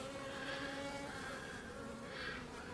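Honeybees buzz around a hive, a faint, soft drone that swells and fades gently as bees move nearby.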